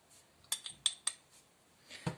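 Light metallic clinks of a spoon tapping against a bowl while stirring a spice mixture with ground nutmeg, a few quick strikes in an otherwise quiet room.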